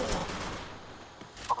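Free Fire gunfire in a Clash Squad match on the Bermuda map: a quick burst of faint shots early, a sharper single report near the end, all low in level.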